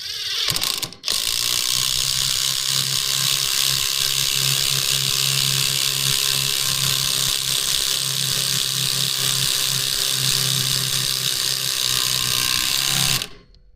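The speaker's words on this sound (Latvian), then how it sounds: "Patestēsim torks 40 izmēru, skrūves garums 15 cm un pamēģināsim to ieskrūvēt no gala" A Keyang ID16BL-150I impact driver drives a 15 cm Torx 40 screw, giving a loud, continuous rapid hammering rattle that lasts about twelve seconds and then stops abruptly, with no talk.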